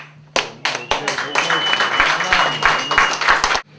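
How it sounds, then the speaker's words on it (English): An audience at a comedy show breaks into loud, close applause and clapping for a performer, with sharp individual claps standing out over a dense patter of hands that swells and then cuts off abruptly. "Give it up for Randall!"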